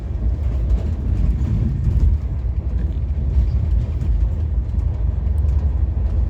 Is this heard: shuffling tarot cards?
no